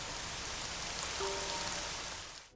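Heavy rain pours steadily in a film scene, a dense, loud, unbroken hiss that holds for the whole stretch before fading slightly at the end.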